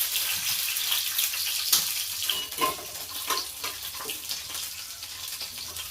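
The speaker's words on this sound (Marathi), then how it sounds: "थोडं तेल गरम झालं की आपण त्याच्यातून कॅप्सिकम आणि कांदा एकदा असं सॉटे करून घेऊ मस्तपैकी" Capsicum and onion sauté in hot oil, giving a steady close sizzle and crackle with occasional stirring scrapes and pops, no talking.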